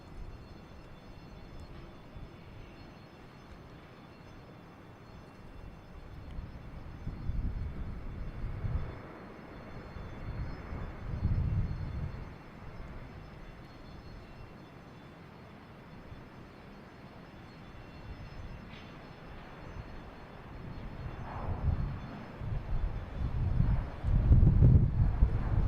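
A JetBlue Airbus A321 takes off from runway 22 left at Boston Logan, its jet roar distant and broad, swelling in several rumbling waves and building loudest near the end, with wind buffeting the microphone throughout.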